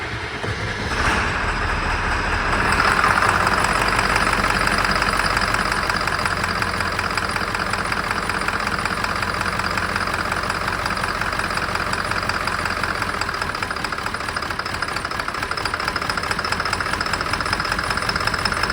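A Ford 7.3L diesel engine idles steadily and loudly close by after starting, with a rough, knocking clatter and two injectors unplugged, running unbroken for the whole stretch with no talk.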